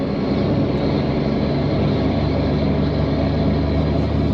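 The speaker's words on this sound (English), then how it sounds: "It's a very loud truck right next to me." A loud truck passes right next to a stationary car, giving a heavy, constant roar and rumble that stays at the same strong level throughout, with no talking.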